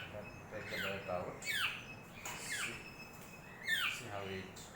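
A baby bird squawks repeatedly while being fed papaya pieces, harsh rising calls in short bursts at close range, with faint background noise between calls.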